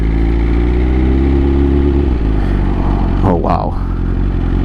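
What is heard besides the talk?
2020 BMW S1000RR motorcycle engine revving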